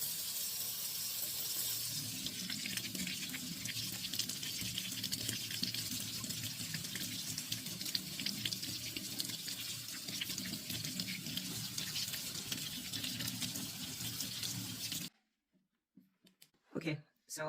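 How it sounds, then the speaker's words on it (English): Tap water runs steadily, rinsing etching cream off a glass champagne flute, a continuous rushing wash lasting most of the stretch before cutting off abruptly into a few faint clinks and handling sounds. "now let's wash off the etching cream and hope that it worked"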